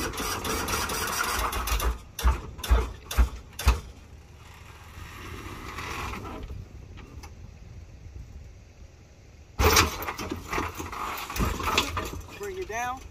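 Hydraulic pumps on a lowrider car whir and clack as it is tapped and laid over onto three wheels, with a run of sharp close knocks followed by steady motor hum and a later loud burst, while someone talks over it.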